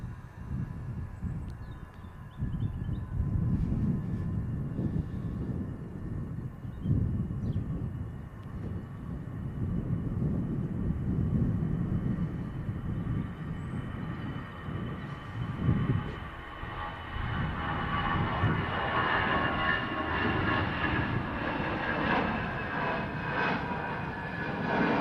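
Aircraft departing Manchester Airport, its engines spooling up and roaring through the climb in a steady, loud, rumbling drone that builds with rising whine over about 25 seconds, heard alone without talk.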